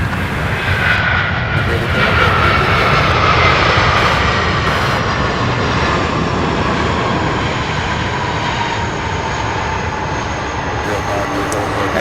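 A heavy Airbus jet approaches the runway at night at SDF, the UPS Worldport airport, making a loud, continuous engine roar that holds steady and dominates the whole stretch.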